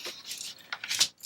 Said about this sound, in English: we're going to use our depth keys, and we're going to cut the key 3, 2, 2, 5, 4.